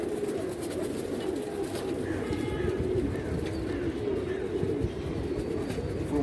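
Pigeons coo in a loft, a dense, steady low burble of many birds close by, with a few higher chirps and faint background noise and no voices.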